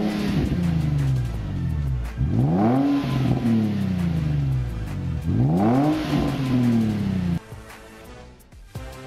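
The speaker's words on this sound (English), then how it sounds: "enjoy newfound power and sound with your Spec D Catback exhaust system" An Infiniti G35 Coupe fitted with a Spec D catback exhaust revs loudly in two rising sweeps, each climbing quickly and then falling back toward idle, with no talk over it.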